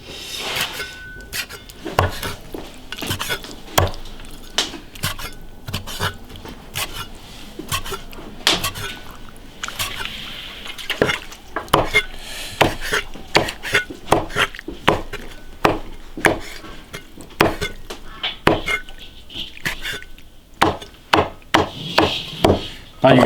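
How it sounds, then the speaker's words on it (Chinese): A cleaver chops braised pork intestines into rolling chunks on a wooden board with steady, sharp thwacks. The strokes come close and loud, sometimes in quick bursts, through the whole stretch. "切滚刀块"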